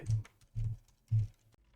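Three soft, evenly spaced keystrokes on a computer keyboard while entering a vim shortcut in a Rust editor, close and quiet with no talking.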